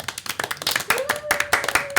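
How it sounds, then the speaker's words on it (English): Several people clap softly and unevenly for about two seconds, a light patter of quick hand claps with a faint sustained tone beneath. "That's a respectful, quiet clap so we don't blow out everybody's speakers."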